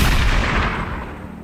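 A single loud rifle gunshot boom in open surroundings, the heavy blast tailing off into a long, rumbling echo that fades over about a second.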